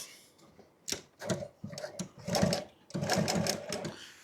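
A sewing machine stitching truck seat upholstery runs in quick rattling bursts that stop and start, with a voice talking over it.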